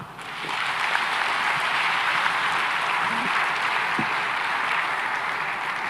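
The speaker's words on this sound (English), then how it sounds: "One more time, a big round of applause for President Ruto." Sustained audience applause fills a summit hall, a dense steady clatter of many hands that rises quickly and holds at full strength before easing slightly at the end, with no voices on top.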